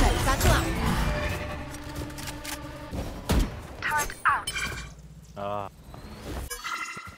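Raze's satchel charge in Valorant during a ranked match on Lotus: heavy explosive thumps with game effects and clatter, mixed with players talking over them.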